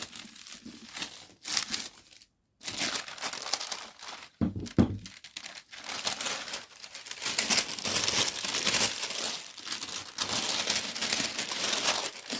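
Bubble wrap is handled while a junk journal cover is being made, giving close, bright crinkling and crackling in uneven bursts, with short pauses and a few sharper snaps.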